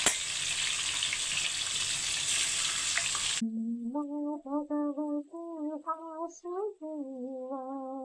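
Eggs frying in a pan with turmeric, a steady close sizzle for about three seconds that then cuts off, followed by a sustained tonal chanting voice with no frying audible.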